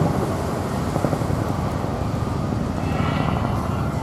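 An RAF tandem-rotor helicopter from 27 Squadron performs display manoeuvres at a seaside air festival, a steady broad rotor and engine roar with wind noise, loud and continuous throughout without speech.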